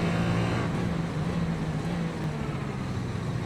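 A LMP2 prototype race car passes in iRacing at Daytona, a steady engine drone with a whining tone over continuous in-car engine noise.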